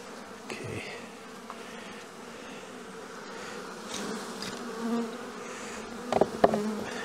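A dense, steady hum of honey bees swarming around an open beehive, close and continuous for the whole stretch, with a few louder buzzes passing near the end and no talking.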